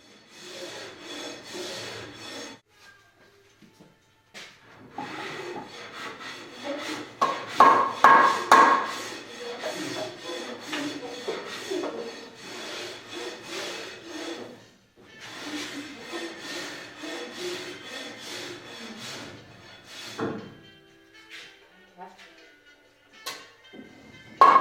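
Wooden wagon wheel fellies being fitted onto the wheel with bolts in a coach shop, a long stretch of rubbing, scraping and knocking wood sounds with occasional louder thumps, close and continuous.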